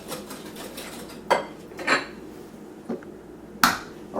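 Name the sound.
stirring butter, sugar and eggs in a mixing bowl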